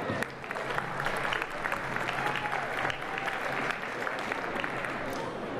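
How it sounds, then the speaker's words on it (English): A campus audience at a lecture-hall gathering applauds the week's pizza servers, a steady wash of clapping that holds evenly throughout, with faint talk beneath it. "let's give a round of applause to this week's pizza servers, the Office of Student Affairs."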